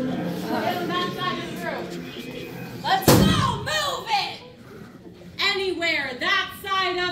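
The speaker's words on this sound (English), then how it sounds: "Last person, shut the door!" In a zombie apocalypse scare house in Toronto, a door is shut with a single loud slam midway through. Excited voices and some laughter from a group of visitors surround it.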